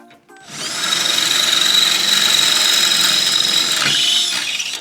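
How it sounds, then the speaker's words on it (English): A power drill bores a hole in an Ifor Williams trailer hinge, spinning up after a brief click, holding a loud steady high whine for about three seconds, then winding down to a stop. "So I'm just going to drill a little borehole to replace this."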